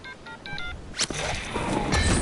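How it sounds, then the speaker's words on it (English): A cell phone keypad beeps through four quick dialing tones in a row, followed by a sharp click and a burst of loud, steady noise. "I'm gonna call Mahmood right now on this cell phone he gave me."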